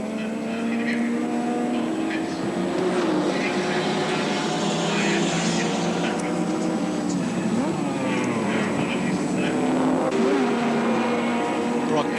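A race car roars past on the Sandown circuit during the 1984 Castrol 500, its engine note rising and falling as it goes by, with a race commentator talking over it.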